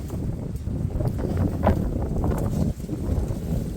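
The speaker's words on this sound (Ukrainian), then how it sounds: "Вітер дуже-дуже сильний сьогодні." Strong wind buffets the microphone in a steady, rumbling roar throughout, with gusty swells and a brief dip near the end.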